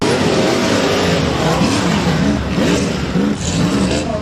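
A rear-engine IFS off-road race buggy driving during a desert off-road race, its engine roaring loud and continuous with wavering revs, while a commentator talks over it.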